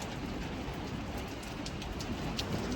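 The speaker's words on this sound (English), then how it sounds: "pleasant little rain" Light, pleasant rain falling steadily on a farm, a soft continuous patter and hiss with faint bird calls in the background and no voices.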